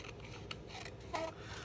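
Scissors cutting paper while making a stamped greeting card, a few short snips and a longer crisp cut heard up close at low level on a quiet bench.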